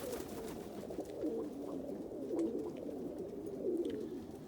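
An almond homer pigeon hen coos softly in repeated low, throaty bursts, close and fairly quiet against faint background hiss.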